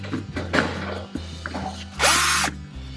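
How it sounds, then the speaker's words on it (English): A power drill with a 3/16 bit drills holes in a Chevy Colorado or GMC Canyon dash for a mount. Short whirring bursts rise to one loud, close, sustained high-pitched spin before it stops. "take a 3/16 drill bit, drill out your 2 holes"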